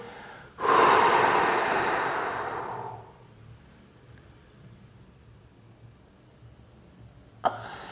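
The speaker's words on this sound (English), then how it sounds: "So you're going to fully exhale." A long, forceful open-mouth exhale before a breath hold in freediving equalization practice, loud at first and fading over about two seconds, then near silence with a brief sharp sound at the end.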